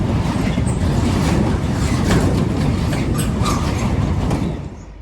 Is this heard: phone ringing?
no